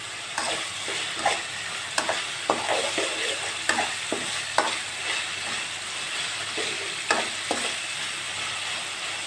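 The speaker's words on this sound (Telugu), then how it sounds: "ఈ విధంగా వేయించుకుందాం." Oil sizzles steadily in a pan while ingredients for coriander tomato rice are fried and stirred, with repeated scraping and clacking of a spoon against the pan, close and fairly loud.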